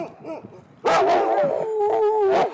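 Sled dogs in Finnish Lapland, one howling close by in a long, wavering drawn-out tone after a few soft yips, with more dogs faintly audible around it.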